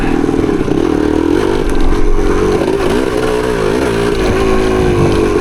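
A 1975 Yamaha DT250 two-stroke trail motorcycle revving on a trail ride, loud and close, its engine note rising and dipping with throttle changes over steady clatter.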